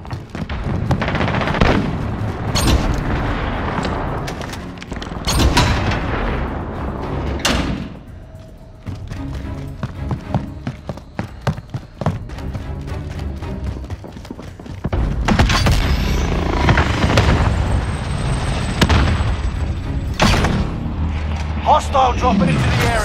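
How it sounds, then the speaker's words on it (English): Precision airstrike explosions and gunfire in the video game Call of Duty Warzone, with repeated loud booms, metallic clanks and bursts of shots, dense and close, under game voice callouts. "Enemy precision airstrike."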